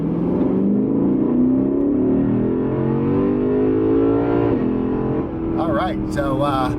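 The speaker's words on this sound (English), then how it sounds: "Nothing like a naturally aspirated V8. Sounds amazing." A 2020 Lexus RC F Track Edition with a naturally aspirated V8 accelerates, engine note climbing steadily in pitch and loud from inside the cabin, before a shift and a short burst of voices at the end.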